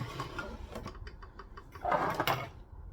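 A domestic sewing machine backstitching the seam of an overshirt, a quiet, quick run of mechanical stitching with a short louder burst near the end.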